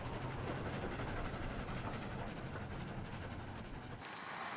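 A train in the Dead Rails video game rolls steadily along, a dense continuous rumble and rattle at close range, with a brief drop in the low end near the close and no voices.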